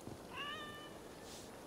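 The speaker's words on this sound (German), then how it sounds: "Katze." A cat gives a single clear, rising meow in the video game Assassin's Creed Valhalla, faint against a quiet background with no talking.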